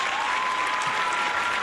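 Dense, steady applause from a crowd at a live show fills the short moment without pause, close and fairly loud.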